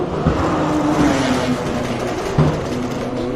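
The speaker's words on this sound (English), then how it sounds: "Sure, that's a loud car." A loud race car at the Simola Hill Climb revs and accelerates nearby, its engine note holding then dropping sharply before climbing again, with a brief gear-change break.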